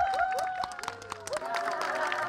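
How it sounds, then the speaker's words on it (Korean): Applause and cheering rise from a crowd at a neighbourhood sports day in Bansong-dong as participants walk in one by one. Scattered claps run steadily beneath voices and tonal background sound. "마치 레드카펫을 밟는 스타들처럼 박수와 환호 속에 오늘의 주인공들이 하나둘 입장합니다"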